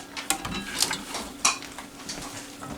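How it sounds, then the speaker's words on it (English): Knife chopping vegetables into chunks for mason jar lacto-fermentation, a few sharp, separate blade taps on a cutting board at an uneven pace, close and fairly quiet. "I leave the ends a little long and then I just cut them into chunks"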